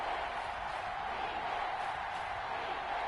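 A stadium crowd roars in Madden 21 ahead of a big third down, a steady, dense wash of cheering that holds at an even level throughout.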